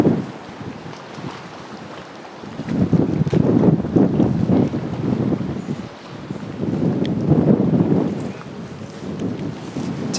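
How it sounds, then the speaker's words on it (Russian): Cold northeast wind of about 10 m/s at Malaya Bukhta beach in Anapa on a roughly 7.5-degree day, roaring into the microphone as a loud, gusty rumble that swells and eases in waves, with no voices. "дует холодный северо-восточный ветер порядка 10 метров в секунду"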